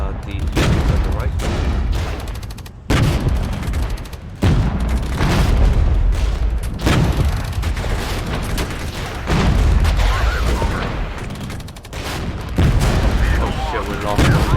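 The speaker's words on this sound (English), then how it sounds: "I'll have the artillery suppress the units on the right." Artillery and gunfire boom in the wargame Regiments, repeated heavy blasts and rumbling volleys layered over continuous battle noise, loud and dense, with voices talking over the combat.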